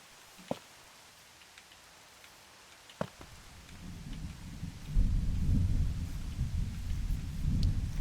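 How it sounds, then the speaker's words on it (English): A Minecraft thunderstorm: a few sharp cracks early on give way to a swelling, deep rumbling roar of thunder mixed with heavy rain, growing louder toward the end with no voices. "Thunderstorm."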